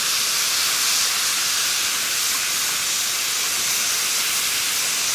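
Beef sukiyaki stir-fries in a pan with its seasoning and no added oil, giving off a loud, steady, unbroken sizzle for the whole stretch.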